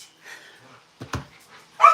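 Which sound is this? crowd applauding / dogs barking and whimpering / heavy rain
dogs barking and whimpering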